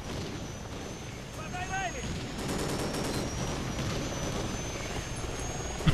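Boss helicopter circling during a firefight in Call of Duty: Ghosts, a steady rotor drone with dense bursts of gunfire and game noise throughout, louder toward the end.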